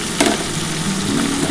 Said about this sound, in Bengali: আলুটা দিয়ে ভালো করে কিন্তু ভাজতে হবে।